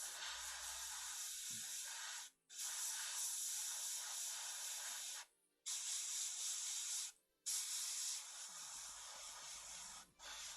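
Airbrush spraying paint while painting Necron miniatures for Warhammer 40k, a close steady hiss in several long bursts broken by short pauses, with no talk.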